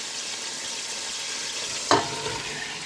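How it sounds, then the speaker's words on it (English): Onions fry in melted butter in a pan on a hob, a steady soft sizzle with one sharp clatter of stirring partway through. "we're going to add the onions, and we're going to fry the onions off"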